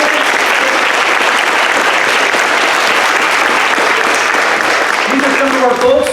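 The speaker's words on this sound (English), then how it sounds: "Let's give them a round of applause, everybody." A summit audience of volunteers working on homelessness in Monterey and San Benito Counties, California, applauds with sustained, dense clapping throughout, and a voice begins speaking near the end.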